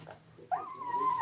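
A pet dog indoors lets out a short whimper that slides into a drawn-out whine, fairly quiet against a low room hum.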